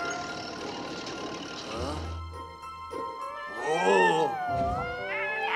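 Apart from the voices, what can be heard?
kittens meowing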